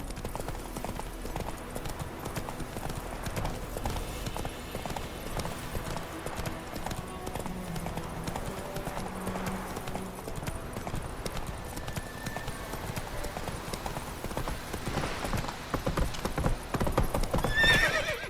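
Geralt's horse Roach from The Witcher 3 trots with a continuous, rhythmic clip-clop of hooves, and whinnies are heard over a dense game soundscape that grows louder toward the end.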